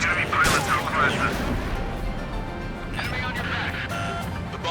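Missile launches and explosions in the jet combat game Ace Combat 7 rumble and roar in overlapping waves under a steady engine drone, with a voice speaking over them.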